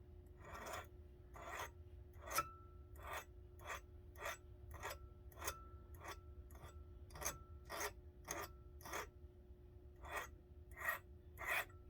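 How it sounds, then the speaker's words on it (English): A small hand file rasps steadily across a tiny knife blade, a regular series of about twenty short, close strokes with brief pauses between them, fairly quiet and with no talking. "Well, I'll try the little file."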